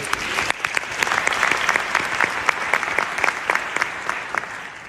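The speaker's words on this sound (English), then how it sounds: "I think she deserves a round of applause." A crowd at a university conferment ceremony applauds an honorary doctorate recipient, a sustained round of clapping with distinct sharp claps standing out near the front, steady throughout without speech.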